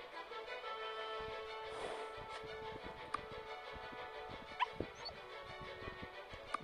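A pet dog in Black Desert Mobile gives a few soft, brief whimpers and yips over a steady bed of game music, faint and intermittent rather than loud barking.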